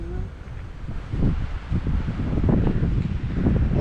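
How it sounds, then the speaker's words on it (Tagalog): Strong wind gusts across an open outdoor spot, buffeting the microphone in rough, uneven rumbling bursts that build louder toward the end, with no voices. "Malakas ang hangin, guys."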